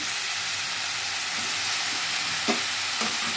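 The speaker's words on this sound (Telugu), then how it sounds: "ఇప్పుడు వంకాయ ముక్కలు వేసేద్దాం ఫ్రెండ్స్" Brinjal pieces tipped into a pan of tomato curry and stirred, a loud continuous hiss of sizzling with a few brief scraping knocks near the end.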